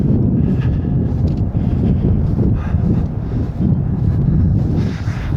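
Wind gusts buffet the microphone outdoors on a disc golf field, making a loud, continuous low rumble that rises and falls throughout, with no voices heard.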